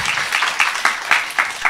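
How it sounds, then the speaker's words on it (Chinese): Audience clapping for two students at a job interview skills talk, a steady patter of applause from a seated crowd, close and fairly even, running the whole moment. "那我们是不是先给两位同学一个掌声？"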